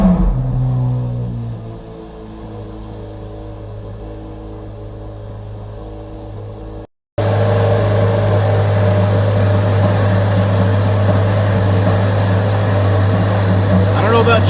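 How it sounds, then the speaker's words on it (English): Chevrolet Corvette Z06 with its LT6 engine starting up, first a fading low idle rumble, then after a brief cut a loud, steady, deep engine drone at close range, held continuously for about seven seconds. "I know you want to hear that glorious LT6 engine"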